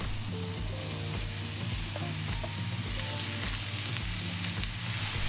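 Mushrooms frying in a pan for a tofu stew, a steady close sizzle with faint crackles and occasional stirring scrapes, no talking.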